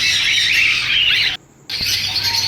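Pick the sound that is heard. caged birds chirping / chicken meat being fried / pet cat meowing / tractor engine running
caged birds chirping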